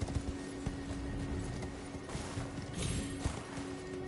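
Galloping horse hooves in the video game Elden Ring, a steady clip-clop rhythm running throughout under a constant low in-game hum, with a few heavier thuds near the end.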